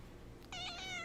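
A pet cat gives a single short, clear meow close to the microphone, following a quiet stretch, with no talk over it.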